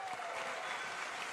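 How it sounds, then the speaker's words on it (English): Audience applause at a live PAX East convention panel, a dense, steady wash of clapping from a large crowd filling the room throughout. "round of applause for real to the PAX Techs making it happen"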